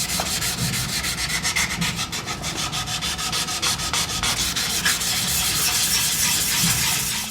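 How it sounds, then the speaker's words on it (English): A time trial bike frame is sanded by hand to strip layers of red paint and white primer outdoors on a windy day, with quick rhythmic scraping strokes repeating close up and no talking. "out there sanding it down right now"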